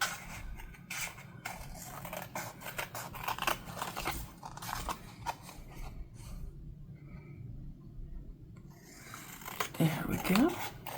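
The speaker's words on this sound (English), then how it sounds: "I'm just going to cut off all the way around." Scissors snip and rasp through paper ephemera, cutting all the way around a junk journal piece, in a run of close, quiet crisp cuts with soft rustling between them.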